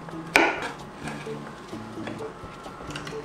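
A knife cuts through a round zucchini on a cutting board and lands one sharp chop, followed by soft scraping and light knocks in a quiet kitchen.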